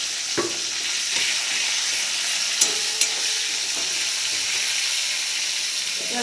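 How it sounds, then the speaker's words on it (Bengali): Chopped onions frying in a pan of hot oil with whole cardamom, cloves and cinnamon, a steady close sizzle with a few light clicks of stirring and no talking. "পেঁয়াজ কুচি দিয়ে দিচ্ছি।"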